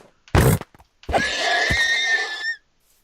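A Minecraft horse neighs once, a clear, loud whinny of about one and a half seconds that rises and trails off, following a short burst of game noise.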